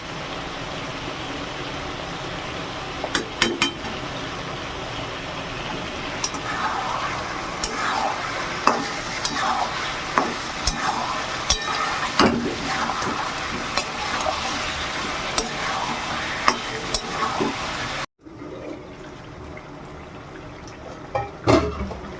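Mutton fries in a pan with cumin, coriander and red chili powder, a loud, steady sizzle broken by repeated scraping stirs. Near the end the sizzle drops abruptly to a quieter simmer.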